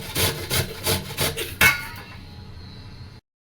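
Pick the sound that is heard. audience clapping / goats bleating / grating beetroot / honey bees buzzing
grating beetroot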